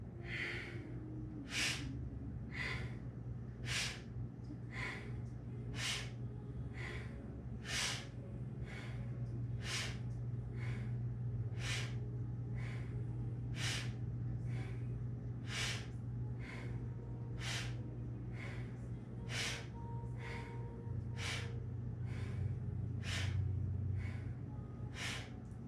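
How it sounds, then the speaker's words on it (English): Kundalini yoga alternate-nostril breathing, inhaling through the left and exhaling through the right: sharp, regular nasal sniffs repeat about every second for the whole stretch, close and steady over a low hum. "we're going to inhale left, exhale right"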